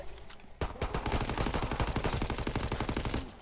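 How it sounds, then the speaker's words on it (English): Pistol fire in a zombies video game: a rapid, loud string of close gunshots in quick succession, starting abruptly and rattling on for about three seconds before stopping, with no talk. "I'm gonna use my pistol now"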